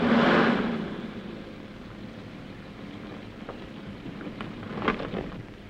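Thunder rumbles loudly at the start during steady rain, then fades into a continuous hiss of rainfall with a few faint crackles and drips.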